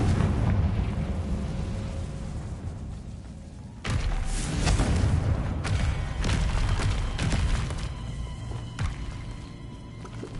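Confringo blasting spell going off in the Hogwarts Legacy video game: a sudden loud boom that opens into a rumbling roar, followed by further scattered thuds and crackles, with no voices.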